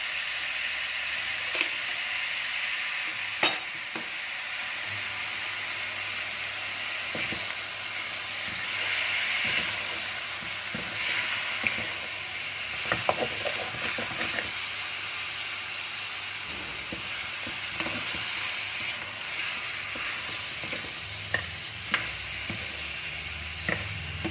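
Pork stir-frying in a hot pan gives a steady, loud hiss and sizzle throughout, broken by scattered clacks and scrapes of stirring.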